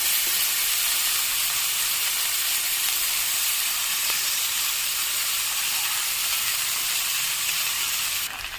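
Boiled potatoes go into a hot pan for a paneer samosa filling, giving a steady, loud broadband sizzle and hiss that holds evenly throughout with no talk.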